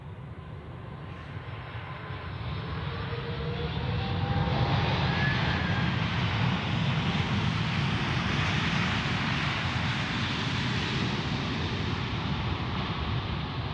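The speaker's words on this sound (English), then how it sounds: "the ULS A310 freighter, classic Airbus" A 34-year-old ULS Airbus A310 freighter comes in to land at Zurich Airport, its jet roar building from a steady wash to a loud, sustained rumble as it passes close.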